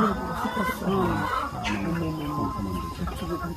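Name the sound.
chickens clucking in coop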